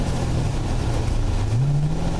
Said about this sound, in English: Man, this car is eating this thing up.